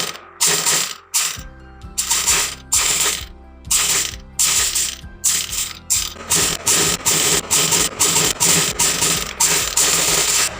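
Sewing machine stitching along the edge of a blouse back neck design, a steady fast mechanical clatter in repeated bursts with brief pauses between runs, close and fairly loud with no talking.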